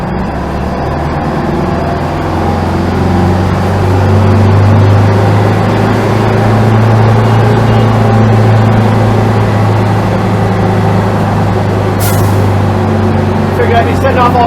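A fire truck rumbles loudly through tight, narrow streets at midnight, a steady heavy engine drone with a deep low hum throughout and a brief sharp hiss near the end.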